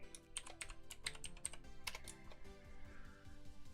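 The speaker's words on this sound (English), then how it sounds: "You guys can probably hear this keyboard." A computer keyboard in a live Pokémon card shop is typed on in quick bursts of sharp, close clicks for the first two seconds, then trails off into quieter, sparser taps with no voices.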